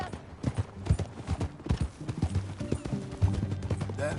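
Horse hooves in Red Dead Redemption 2 clatter in a fast, steady gallop, loud and close, with a busy rhythmic thudding that carries throughout.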